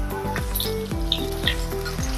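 Curry leaves dropped into a pan of fried onions crackle and sizzle steadily up close, a bright continuous frying hiss with small pops and no voices.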